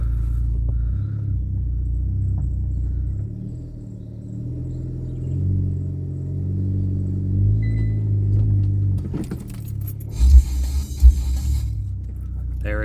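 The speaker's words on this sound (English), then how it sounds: "I'm gonna get this car up on this ramp" A 2019 Kia Forte LXS car idles and creeps slowly up onto a ramp, a deep low engine rumble with gentle rises, ending in a few thumps and rattles as it settles, close by and without speech.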